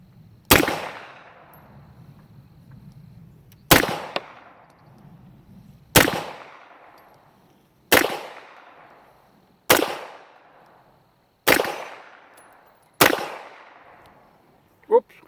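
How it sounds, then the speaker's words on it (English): An old Star B military 9mm pistol fires seven loud single shots at a steady pace a couple of seconds apart, each a sharp crack with a ringing outdoor echo. "let's aim it down here and see if we can't line it up on something and shoot and see how it shoots"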